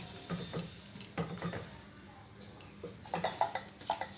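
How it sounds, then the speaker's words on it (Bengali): Hot water poured into a pan of neem jhol and stirred, with soft splashes and spoon-against-pot clinks in short bursts, fairly close and moderately quiet, with a light clatter toward the end. "এবার এর মধ্যে আমি গরম জল দিয়ে দিচ্ছি নেড়ে দিচ্ছি"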